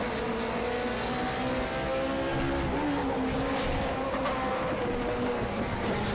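Radical race car lapping Shanghai in the RaceRoom racing game, a continuous high engine drone with steady tonal whine, holding near-constant pitch with a brief dip and recovery midway, loud and alone.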